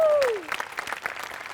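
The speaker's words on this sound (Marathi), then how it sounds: "तुमच्या दोघांसाठी प्रचंड टाळ्या." Audience applause on a Marathi comedy sketch show, broad clapping swelling after a fading tone and continuing steadily to the end.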